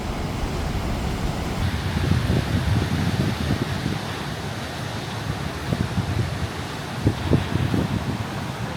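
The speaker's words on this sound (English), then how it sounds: "Listen to the soundtrack of the sea." Broad, steady wash of sea surf with wind noise rumbling against the microphone, continuous and moderately loud with no voices.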